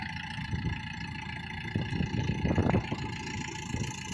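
A tractor engine runs at a steady mid-pitched idle, rumbling close by on a flat work area with some irregular clunks and rattles mixed in.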